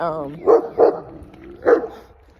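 A small dog gives three sharp, close barks, two quick ones then a third after a short pause, following a brief snippet of a person's voice at the start.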